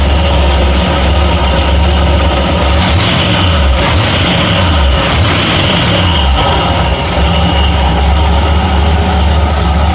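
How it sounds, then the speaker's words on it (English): A cold Ford F100 with a 351W V8 engine idles, a loud, close, steady low rumble with a continuous throb that holds evenly for the whole stretch, without any talk. "Seems to be idling fine."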